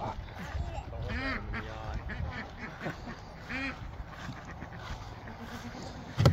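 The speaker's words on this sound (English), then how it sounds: "Oh, we got a duck rescue." A rescued duck quacks repeatedly at close range on a farm, loud honking calls coming in irregular bursts, with people talking at times in the background.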